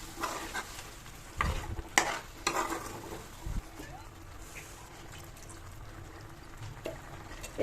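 Chicken being sautéed with a little blanched stock of spring onion, coriander and chilli added, stirred in a pan. Intermittent scraping stirs and soft sizzling with some liquid sounds, fairly quiet, and a voice talking now and then.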